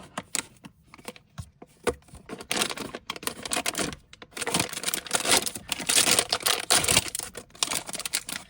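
Scissors snip in quick, irregular cuts through a sealed plastic bag, with crinkling and rustling in bursts near the listener.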